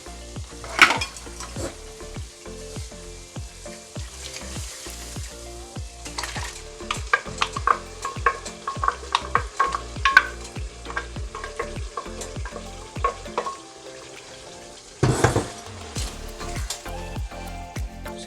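Blended garlic, pepper and onion fry with sliced onions for a Ghanaian kontomire spinach stew, a soft sizzle broken by repeated scraping and clinking stirs of a utensil against the pot, with a louder burst near the end.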